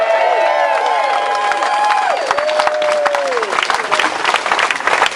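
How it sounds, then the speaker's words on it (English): A crowd at an anti-fracking gathering in Balcombe applauds steadily, dense clapping mixed with cheers and whoops, loud and sustained throughout. "Just give ourselves a little round of applause right now."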